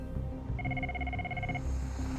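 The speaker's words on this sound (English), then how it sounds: "waiting for the scramble phone to ring" An air ambulance crew's scramble phone rings with a steady electronic warble lasting about a second, heard over a constant low rumble of room noise.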